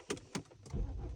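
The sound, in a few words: BMW 5 Series car engine starting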